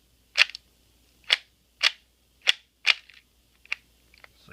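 A shell-ejecting CZ-75 gas airsoft pistol fires six sharp, close, evenly spaced cracking shots, each with a faint clatter after it, with no talking.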